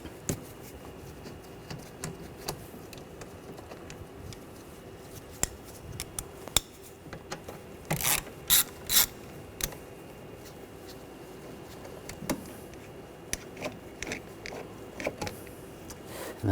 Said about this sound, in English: Using a T25 socket, we're going to take these two screws out.